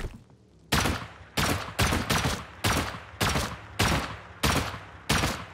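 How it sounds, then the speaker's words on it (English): Explosive rounds fired at a TV in a shooting video game, heard as eight loud, sharp blasts at a fairly steady pace, each followed by a short decaying boom, with no voices. "how many fucking explosive bullets does it take to break a TV?"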